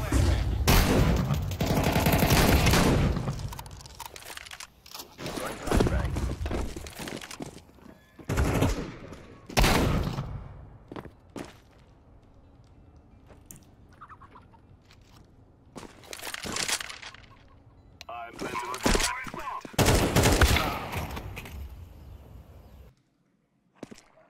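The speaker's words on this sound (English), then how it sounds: "You're shooting too many bursts" Counter-Strike 2 gunfire on the Inferno map, loud broadband bursts recurring through the clip with quieter gaps between, some short and some longer sprays, with a voice talking faintly at times.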